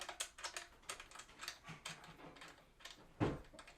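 Tightening the stand plate on a Dell S2722DGM 27-inch curved monitor without tools: a string of light, quick plastic clicks and scrapes, close and quiet, ending in one louder knock.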